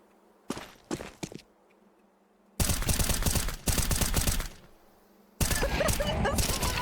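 Rapid automatic gunfire in Counter Strike 2: a few short bursts early on, then long, loud, sustained volleys of shots, with no voices over them.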